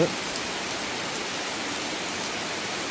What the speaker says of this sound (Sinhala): දැනන්ට සැර වුණා වැස්ස